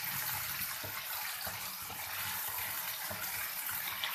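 Potatoes fry in a pan for aloo singri sabzi, giving a dense, steady sizzle with soft crackles throughout, close and even, with no voices.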